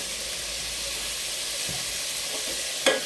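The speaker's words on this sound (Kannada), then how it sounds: "ಹಾಗೆ ಚೆನ್ನಾಗಿ ಫ್ರೈ ಮಾಡಿ. ಹೀಗೆ ಫ್ರೈ ಮಾಡ್ಕೋಬೇಕು." Mushrooms with a little salt sizzling in a pan, a steady close hiss of frying with a few faint stirs and a short sharp clatter near the end, no talk.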